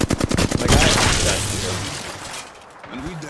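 Bursts of gunfire in the Apex Legends battle royale game, a rapid cluster of loud shots early on that fades into quieter game sounds, with a player's voice talking briefly.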